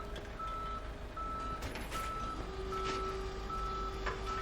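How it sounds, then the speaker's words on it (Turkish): A tow truck reverses in the Police Simulator: Patrol Officers game, its reversing alarm giving repeated steady beeps over a low engine hum and traffic rumble. "Çekici geldi."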